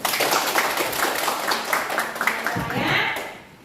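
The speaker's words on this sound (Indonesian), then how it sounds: "kalau menyenangkan beri Bunda tepuk tangan dulu" Schoolchildren in a classroom clapping their hands for their teacher: a brief burst of quick, fairly loud group claps with children's voices mixed in, fading at the end.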